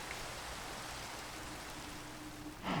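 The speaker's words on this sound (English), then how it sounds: "I'm going to turn off the rain at just the wrong moment," Rain falls in the video game Minecraft as a steady, even hiss that holds through the whole stretch, then gives way to a brief louder burst at the end.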